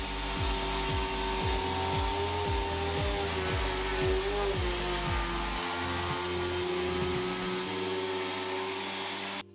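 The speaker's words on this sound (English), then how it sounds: "the JIMMY vacuum cleaner can be used on any furniture, for example sofa" A handheld vacuum cleaner (JIMMY JV35) cleaning a sofa: a steady, loud motorized whine runs throughout with rhythmic low thumping underneath, cutting off abruptly at the end.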